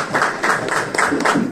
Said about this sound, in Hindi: भाई के लिए जोरदार तालियां